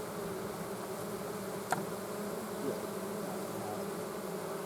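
A beehive's honey bees hum in a steady, even swarm drone, faint and unbroken, with one sharp brief click partway through.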